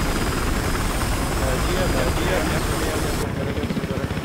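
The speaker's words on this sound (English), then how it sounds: "Chopper." A helicopter's loud, steady rotor and engine drone in Battlefield Hardline fills the scene, close and continuous, with game sound effects layered over it.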